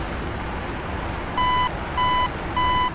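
Three evenly spaced electronic beeps from an F-4E Phantom's ALR-46 radar warning receiver system test in DCS, each a steady high tone lasting about a third of a second, over a constant low rumbling hum.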